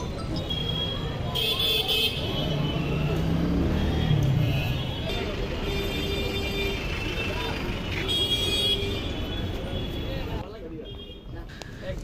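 Busy street traffic at Bottola rumbles steadily as people cross the road, with engines passing close by and horns tooting now and then, while a voice talks over it.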